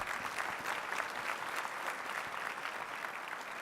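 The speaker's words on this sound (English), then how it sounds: "Please give them a round of applause." Steady applause from a breakfast audience in a conference hall, greeting the MBDA staff team with dense, continuous clapping that holds evenly throughout.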